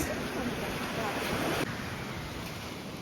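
Black Sea surf breaks on a beach at Chornomorsk after a storm, a steady loud wash of waves with strong wind buffeting the microphone and no pauses.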